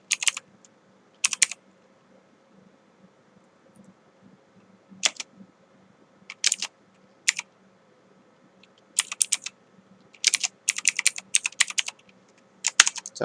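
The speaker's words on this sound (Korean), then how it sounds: "자, 어도비 애프터 이펙트라고 타이핑을 했는데" Typing on a computer keyboard to enter a software name in Adobe After Effects: quick bursts of crisp, close key clicks separated by pauses, over a faint steady hum, with no talking.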